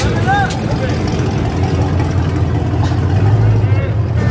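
A car leaving the SEMA 2024 show gives a loud, continuous engine drone that rumbles steadily through the whole stretch, with street noise around it.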